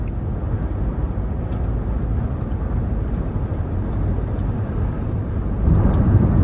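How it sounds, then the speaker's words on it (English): Steady, loud broadband rush of wind and road noise inside a moving 2012 Ford Escape Limited with a 3.0 V6, a constant roar that swells slightly toward the end. "you're going to have to put up with some wind noise, especially with a vehicle this age"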